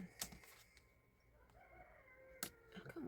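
A rooster crows faintly in the distance among soft clucking chickens, with a few sharp nearby knocks, in a quiet outdoor setting.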